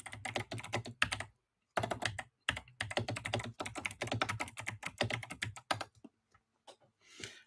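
Rapid typing on a computer keyboard, close and crisp, in several dense bursts of clicking broken by short pauses, then a few scattered keystrokes as it trails off.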